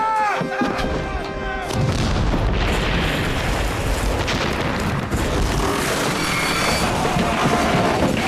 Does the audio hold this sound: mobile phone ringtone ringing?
no